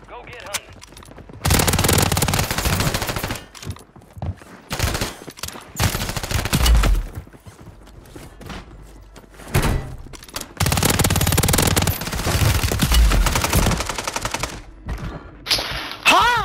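A MAC-10 submachine gun fires in Call of Duty Warzone on Rebirth Island in loud, rapid bursts, stopping and starting repeatedly with short pauses between sprays, while a player talks.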